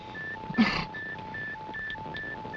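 Regular electronic bleeps from the MR4 spacecraft's radio beacon, a steady alternating two-tone pattern repeating several times over a low hum, with a brief burst of noise near the start.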